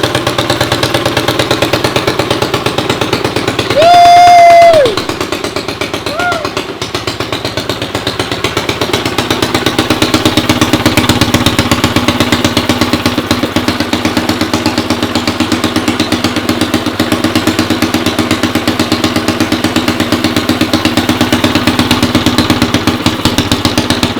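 Engine of a tuned E85 car idling steadily and loudly up close after a short tonal whine near the start, a continuous low rumble throughout.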